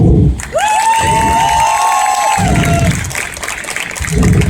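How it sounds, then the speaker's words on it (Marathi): An audience at a college stage drama breaks into applause and cheering in bursts, with a shrill whistle ringing out over the clapping early on. "तर मग आता खऱ्या अर्थाने टाळ्या वाजवू."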